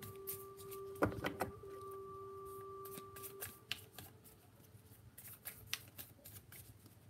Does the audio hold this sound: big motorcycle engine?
no